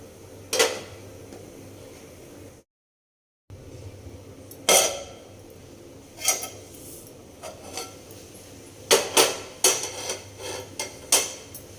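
A spoon scrapes and knocks against a pan while a cooked vegetable dish is stirred, giving a series of separate metallic clinks and clatters, fairly close, with short quiet gaps between them.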